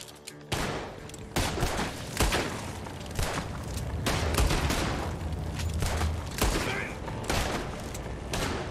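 Gunfire in the Red Dead Redemption 2 video game comes as a dense run of loud shots at an irregular rapid pace, continuing for several seconds.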